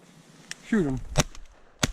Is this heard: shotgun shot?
yes